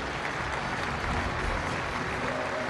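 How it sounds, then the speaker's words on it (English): Crowd at a netball World Cup match between Singapore and Zambia applauding steadily, a dense even wash of clapping filling the whole stretch at moderate loudness. "Good applause from the crowd"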